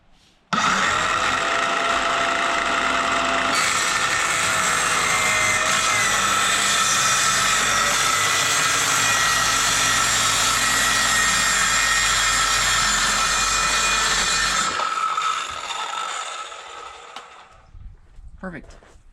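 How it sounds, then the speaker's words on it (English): A power saw cuts thin ACM aluminum composite sheet held in a Kreg jig, a loud, steady high-pitched whine that runs unbroken for about fourteen seconds, then stops abruptly and leaves a short, quiet tail. "got my Craig jig out to help me cut this ACM aluminum composite material"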